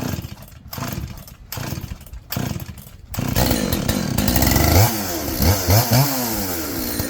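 An old chainsaw sputters in uneven bursts, then catches and runs loud and steady close by, its engine revving up and down.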